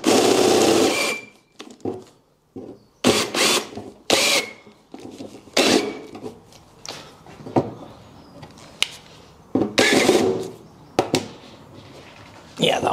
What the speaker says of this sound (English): I've got a really good drill bit that's 11 mil